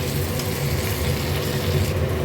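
Fried potatoes sizzling in spice masala in a pan: a continuous, close, dense hiss with no clear breaks.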